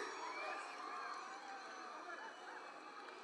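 Sustained applause from a large audience at a college function where a film's first look poster is being released, a steady dense wash with no breaks.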